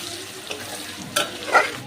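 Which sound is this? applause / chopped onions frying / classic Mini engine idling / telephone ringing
chopped onions frying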